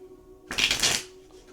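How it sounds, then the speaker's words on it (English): A deck of tarot cards being shuffled in one quick riffle, a dense papery burst about a second long, close and fairly loud over a quiet room with a faint steady hum. "Okay, one more shuffle."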